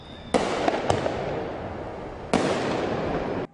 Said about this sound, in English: the launch of both legal and illegal fireworks